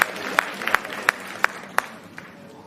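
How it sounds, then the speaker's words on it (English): Auction room applause: a small crowd claps sparsely, with several sharp, separate claps standing out over a quieter patter, fading toward the end. "A round of applause, please."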